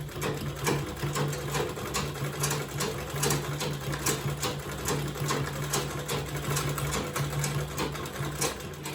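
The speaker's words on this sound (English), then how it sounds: "So I'm turning now to sew the other side." A sewing machine runs steadily while stitching the side of an Ankara fabric bag, a continuous close, loud mechanical whir with rapid needle patter that holds unbroken throughout, with no talking.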